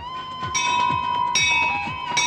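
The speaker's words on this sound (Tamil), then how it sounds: "பாத்தீங்களா, கோயில் மணி அடிக்குது" Metallic temple bell tones ring repeatedly at the Thiruvakkarai Vakkarakali Amman temple, a bright, sustained shimmer, several strikes in quick succession over a steady hum.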